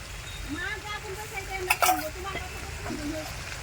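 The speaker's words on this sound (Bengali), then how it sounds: "সাথে গরম মশলাও বাটা আছে। সব কিছু দিয়ে কষাই করবে।" Pumpkin and chickpeas with ground garam masala, ginger and cumin paste sizzle softly in a pan, with faint stirring scrapes and a brief clatter, while someone talks over the cooking.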